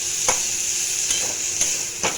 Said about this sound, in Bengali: এর মধ্যে আমি দিয়ে দেবো চিংড়ি মাছটা যে ভেজে রেখেছিলাম, চিংড়ি মাছটা দিয়ে একটু নাড়াচাড়া করবো।